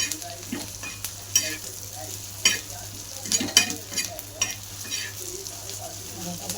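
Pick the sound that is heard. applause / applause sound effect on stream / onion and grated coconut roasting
onion and grated coconut roasting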